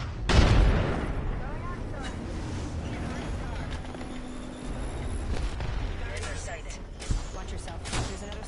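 Frag grenade exploding in a console video game shooter: one loud, deep boom near the start, then rumbling debris and scattered game sounds, with players talking throughout.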